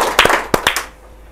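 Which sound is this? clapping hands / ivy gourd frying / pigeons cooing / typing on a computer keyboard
clapping hands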